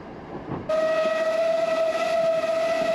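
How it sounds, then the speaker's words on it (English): An Isle of Man Steam Railway train running from Douglas toward Port Erin at about 25 mph sounds a loud, sustained steam whistle that starts suddenly and holds a steady pitch over the rumble of the moving carriages. "Once we get going, the train hits what we think is the ruling line speed of 25 miles per hour."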